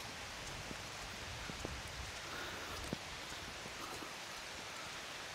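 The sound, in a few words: rain falling near the hills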